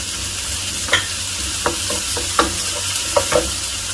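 Chopped onions and tomatoes sautéing in a pan for a chana chaat, a steady soft sizzle under sharp spoon-against-pan stirring clicks that come every second or so, close and moderately loud, with no talking.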